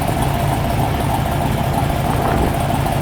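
A 1973 big block Corvette V8, fitted with a new mini starter and heat-soaked after a drive, runs close by in a loud, deep, steady idle with an even, throbbing rumble throughout.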